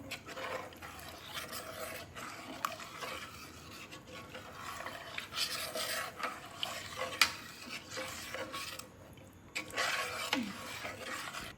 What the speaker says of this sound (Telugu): ఒకసారి మొత్తం కలుపుకుందాం.